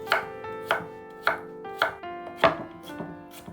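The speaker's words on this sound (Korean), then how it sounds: "오이는 4등분해서 잘게 썰어주세요." A knife finely chops cucumber on a cutting board, about six crisp, evenly spaced strokes, close and fairly loud with no talking.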